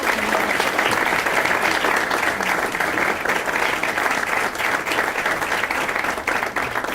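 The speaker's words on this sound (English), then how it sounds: "please give him one more round of applause" An audience at a morning breakfast series event claps in a sustained, even round of applause that holds steady for the whole stretch, dense and fairly close.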